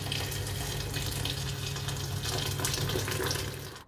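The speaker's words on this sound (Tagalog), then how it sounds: "Naglagay naman ako dito ng tubig." About a liter of water gushes steadily into a cooking pot of sautéed tomato and onion for Filipino sinigang, a close, continuous rushing pour lasting a few seconds without talk.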